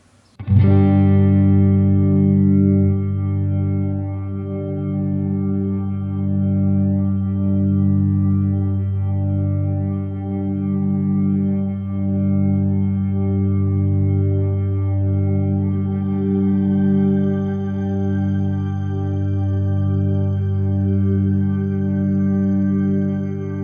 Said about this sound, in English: what about something like a shimmer reverb?